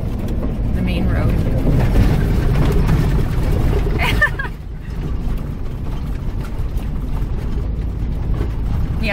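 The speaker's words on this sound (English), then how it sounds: "I'm sliding. My tires are caked with thick mud." A Class C RV drives along a muddy road during an Arizona storm, a loud, steady low rumble of engine and tires with rushing noise, briefly dipping midway before continuing.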